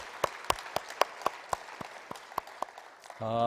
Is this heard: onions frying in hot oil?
no